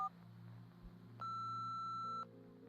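A steady electronic beep from voicemail playback in a video game, holding for about a second over a low background hum, with a short lower tone following.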